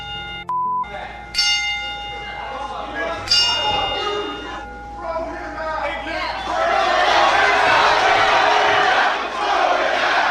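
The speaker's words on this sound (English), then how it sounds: "Combat Zone was performing the 10-bell salute for Guerrero, a tradition whenever a wrestler passes away." A bell rings out a few spaced, ringing strikes in a ten-bell salute for the late wrestler Guerrero at a Combat Zone wrestling show, each toll left to decay before a crowd's noise swells loudly and drowns the later strikes.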